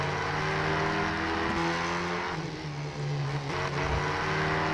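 Tatuus open-wheel race car in rFactor 2, its engine droning loudly and continuously with a buzzy, high-revving tone like a two-stroke bike, dipping briefly during gear changes.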